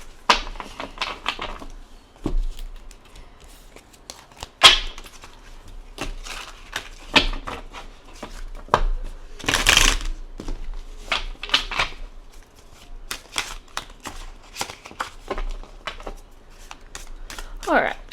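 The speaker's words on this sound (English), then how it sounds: "trying to shuffle them all again." Tarot cards shuffled repeatedly up close, a steady series of papery riffles and slaps with short pauses between, with a voice heard faintly at moments.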